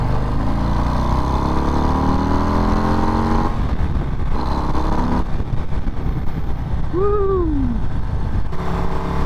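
A 2024 Harley-Davidson Breakout motorcycle rumbles along the road with a loud, steady engine drone that shifts pitch as it accelerates. Wind noise runs through it, and a rider lets out a brief excited shout partway through.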